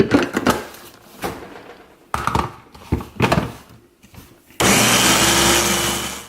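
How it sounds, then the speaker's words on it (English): Blender whirring through frozen yogurt, starting with a few knocks and short bursts, then settling into a loud, steady continuous whir near the end. "now let's blend this some more"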